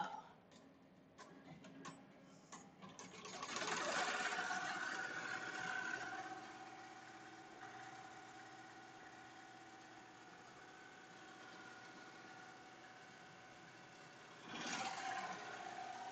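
A Melco Summit embroidery machine stitches an in-the-hoop jar opener. Its steady mechanical hum and vibration swell louder for a few seconds, then settle into a quieter drone, rising again briefly near the end.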